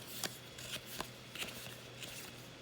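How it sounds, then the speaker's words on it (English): Scissors snip through the foil of Japanese Pokémon booster packs with a few quiet, crisp cuts spaced about half a second apart over a faint background hiss. "why is he using scissors on the packs?"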